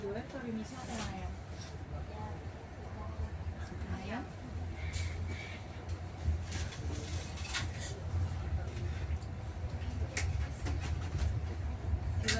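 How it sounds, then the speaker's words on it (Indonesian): The Motis Utara passenger train arrives and halts at Arjawinangun station. Rail rumble, squeals and clicks sound nearby, and voices talk over the train throughout. "kereta api Motis Utara telah tiba dan berhenti di stasiun Arjawinangun"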